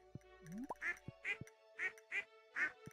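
Duck quacks in the Stardew Valley farming game, five evenly spaced nasal calls over light game music, with a short rising whistle-like tone before them.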